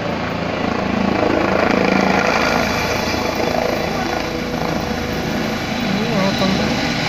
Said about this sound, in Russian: Сейчас будет взлетать медицинский вертолет.